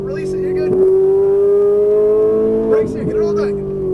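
A Ferrari 458 Italia accelerates hard on a race track, its engine climbing in pitch with two brief dips at gear shifts, loud and close under a coaching voice.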